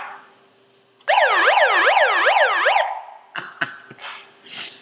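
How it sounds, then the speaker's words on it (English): A loud electronic siren wails in rapid up-and-down sweeps for about two seconds, then cuts off, followed by a few sharp clicks and rustles. "And then it's got a siren on it."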